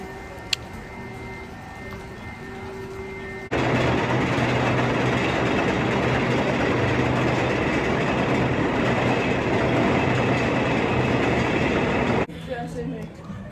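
Outlaw Run roller coaster at Silver Dollar City: a quiet stretch, then a loud, steady rolling roar of the ride begins and runs for about nine seconds before dropping back to a quieter background.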